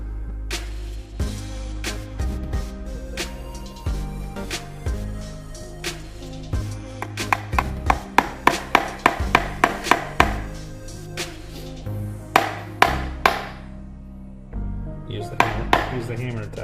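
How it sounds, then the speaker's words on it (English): A hammer taps a workpiece held down on a bench in a shop, a child striking as an adult steadies it, giving a long run of sharp, close knocks, some fast and rhythmic, others irregular, with voices talking throughout. "Use the hammer to tap it sideways."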